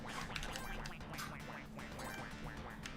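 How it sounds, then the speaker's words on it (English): Duck quacks in a video game, pitch shifted with the trigger: a quick flurry of faint, nasal quacks in rapid succession, their pitch sliding and varying from call to call. "You can also adjust the pitch of your quacks with the right trigger."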